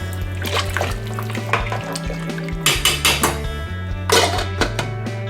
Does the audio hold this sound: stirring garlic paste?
yes